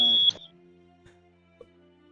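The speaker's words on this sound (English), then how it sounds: "my fire alarm just goes off sometimes" A household smoke alarm sounds one sharp, loud, high electronic beep lasting a fraction of a second, followed by a quiet hum with faint clicks.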